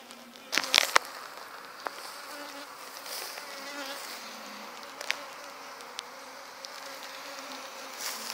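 Honey bees hum steadily around an open beehive, a close, continuous buzz broken by a few sharp knocks and taps near the start.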